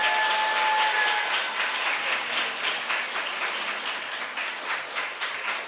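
Applause from an audience at a church youth sharing event, a steady wash of clapping that gradually thins, heard alone without talk.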